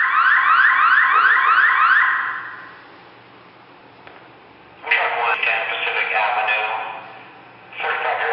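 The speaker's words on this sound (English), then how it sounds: "The warning alarm is turned on in the fire station so that the firefighters will know they have to get ready." A fire station warning alarm sounds in repeated electronic bursts, loud and close. A sweeping alarm tone is followed by a pause, then harsher ringing resumes.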